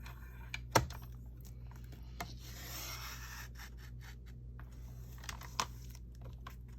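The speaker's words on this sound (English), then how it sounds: "I'm going to try to cut it with this cutter." A paper cutter slices an index card, giving a soft scraping rasp with a few sharp clicks and taps around it, faint and close in a quiet room, with no talking.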